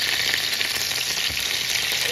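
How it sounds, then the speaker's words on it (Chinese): Chicken thighs fry in a pan with a loud, steady sizzle and crackle throughout, close and continuous, no talking. "我一般煎鸡大腿的时候喜欢把它这个表面煎得稍微有一点金黄色"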